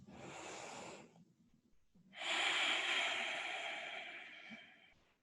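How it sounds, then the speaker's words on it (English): Slow deep breaths during a gentle trauma-informed yoga practice, a long exhale followed by a pause and then a longer, louder breath, close and with no talk. "We'll take about 3 more breaths."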